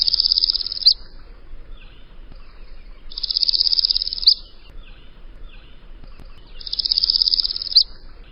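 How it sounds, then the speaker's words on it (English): Northern parula warbler singing a high buzzy trill that rises and cuts off abruptly at the end, repeated three times at steady intervals, fairly clear over a soft background hum of insects or frogs. "Its song is a buzzy trill that drops off abruptly at the end."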